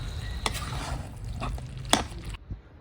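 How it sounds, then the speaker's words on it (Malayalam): Chicken curry with fresh curry leaves being stirred in a pan over a low sizzle, with scattered scrapes and clinks of a spoon against the pot, one sharp knock near the end before the sound drops away. "ഇനി ഒന്നുകൂടി നന്നായിട്ട് ഇളക്കി കൊടുക്കാം"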